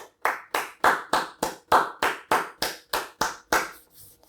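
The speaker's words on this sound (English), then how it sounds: "It's time to go, time to clap." Steady hand clapping, about a dozen crisp, close claps in an even rhythm, celebrating a chess win, with no talking over them.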